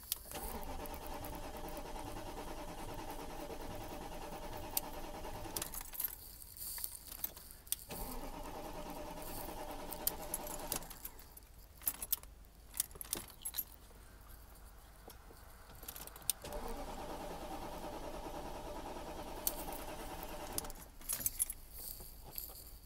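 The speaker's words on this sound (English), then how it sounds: "It just cranks. It don't turn over." A 2001 BMW 740iL E38 cranks repeatedly without catching, the starter whirring in several long bursts with quiet pauses between, keys rattling at the ignition, recorded close and alone.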